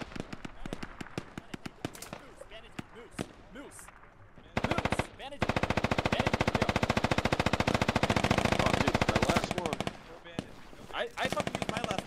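Gunfire during a river crossing assault in the military shooter game Squad: scattered single shots give way to a long, dense burst of rapid automatic fire, then more sporadic shots near and far, with voices talking over it.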